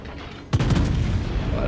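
The main guns of the battleship Richelieu fire in the naval game World of Warships, a single heavy boom followed by a long rumbling roll that stays loud to the end.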